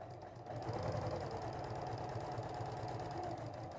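A sewing machine back-stitching an elastic waistband, a steady close mechanical whir and needle rattle running continuously for several seconds.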